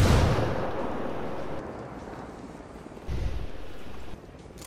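A frag grenade explosion in Ghost Recon Wildlands, a loud booming blast at the start that decays into a long rumble, followed by a second, duller thump a few seconds later.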